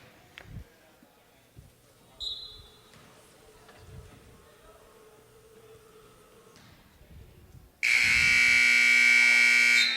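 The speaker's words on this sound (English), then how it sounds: "And the final buzzer sounds." Final buzzer at a women's college basketball game at Canisius, a loud sustained horn blast over the last couple of seconds after quieter arena murmur and crowd noise.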